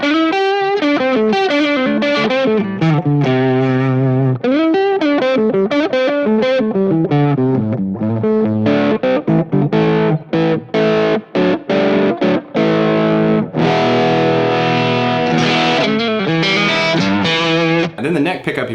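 Squier Affinity Jazzmaster HH electric guitar on a humbucker pickup with the tone knob rolled down, played through effects and distortion; a steady stream of sustained, overdriven melodic phrases and chords, loud and continuous with no talking.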